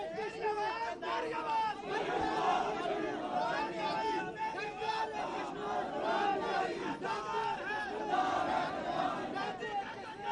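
A large crowd chants slogans together at a PML-N workers' convention in Pakistan marking the party's Azad Kashmir founding day, a dense and loud wall of rhythmic voices sustained throughout.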